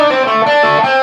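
Heavily distorted electric guitar plays the opening lick of a solo, a brief, loud, ringing phrase with a thick, effects-laden tone.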